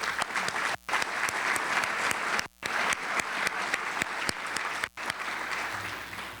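A luncheon audience gives sustained applause, with crisp individual claps over a thick wash of clapping that pauses briefly a few times before carrying on.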